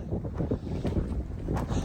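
Gusty wind on a high mountain rumbling and buffeting the microphone, a steady low roar close up with no voices.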